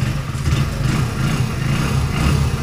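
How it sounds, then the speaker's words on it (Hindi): A modified Hero Splendor Plus BS6 motorcycle sits at idle, its engine putting out a steady, smooth low thrum with a regular pulsing beat, close and fairly loud, with no talking over it. "एक बार इसका स्पेंडर का आप साउंड सुन लीजिए"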